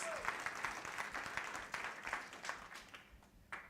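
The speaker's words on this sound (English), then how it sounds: "Let us also give them a round of applause" Audience applause for African teams at a women's symposium, a steady wash of moderately faint clapping from a crowd, continuous for several seconds with a few sharper claps standing out.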